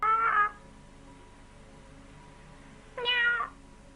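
A child imitates a cat, giving two drawn-out meows separated by a few seconds of quiet room noise.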